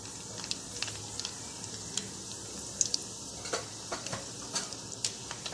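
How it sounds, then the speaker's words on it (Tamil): Mustard seeds and urad dal popping in hot oil for tomato rice, a low steady sizzle broken by sharp irregular crackles and pops scattered across the clip. "எண்ணெய் நல்லா சூடான உடனே நாம எடுத்து வச்சிருக்கிற கடுகையும் உளுத்தம்பருப்பையும் சேர்த்துக்கலாம்"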